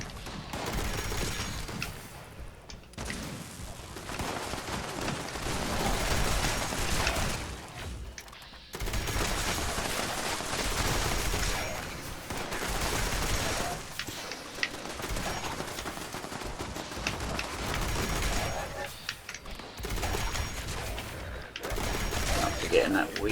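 Rapid bursts of gunfire from weapons in Fallout 76, loud and near, firing in long sustained volleys with brief pauses for reloading, mixed with game effects and a voice talking over it.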